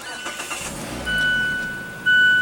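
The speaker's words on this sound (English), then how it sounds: "And what you're hearing there is a 2-liter 4-cylinder engine." A 2016 Mazda MX-5 Miata's 2.0-liter four-cylinder engine cranks briefly, then catches and settles into a smooth idle, close by, with an electronic chime at the start.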